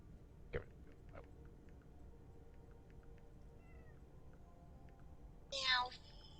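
A cat meows once near the end, a short, fairly loud call following a couple of faint clicks and soft background sounds in a quiet room.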